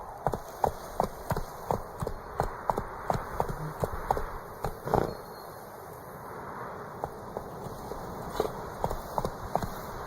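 Hooves of Geralt's horse Roach galloping in The Witcher 3, a rapid rhythmic clip-clop close by, pausing briefly midway before resuming.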